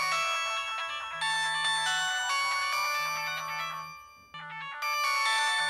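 A mobile phone rings with a bright repeating electronic melody, bursts separated by short pauses, loud and close with no talk over it.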